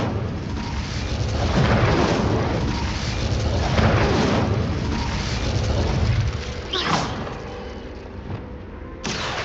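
Incendio fire spell cast in Hogwarts Legacy, a loud sustained whooshing roar of flame lasting several seconds before fading, followed by a couple of short sharp bursts near the end.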